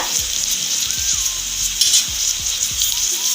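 Capsicum fries with chicken in a pan for Andhra-style chilli chicken, a loud, continuous close-up sizzle punctuated by regular scraping strokes of a spatula, with no voices.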